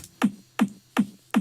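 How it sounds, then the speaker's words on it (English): Four punchy, low kick drum hits land at a steady, even pace, each with a short boomy thump and a quick decay, alone with no talking. "The first kick sounds like this."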